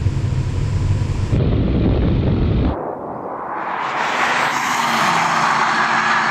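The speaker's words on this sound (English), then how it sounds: "here comes the Mercedes now though" A Mercedes-AMG GT 63 S in a drag race against a BMW M5 and Panamera Turbo roars loudly under heavy wind buffeting, the engine rising and building again as the car approaches.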